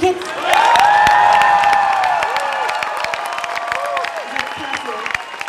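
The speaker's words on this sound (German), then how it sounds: "Applaus für diese Kids." Children are applauded after singing a song, a crowd clapping and cheering at close range, with a loud burst that gradually thins out while voices ring over it.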